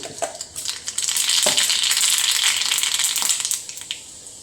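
Mustard seeds tossed into hot oil for a coconut curry, a bright steady sizzle with sharp crackling pops near the start and again before it tapers off, close and alone.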